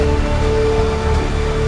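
Batu Rigis waterfall in tropical rainforest, running lower than usual after months without rain, gives a steady, even rush of falling water that holds constant throughout with no break, heard from a short distance.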